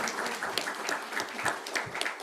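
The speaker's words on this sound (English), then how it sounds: "A big round of applause for our entire team." An indoor audience at a foundation day and felicitation event for kidney patients claps steadily, a dense, even patter of many hands at moderate volume with no voices over it.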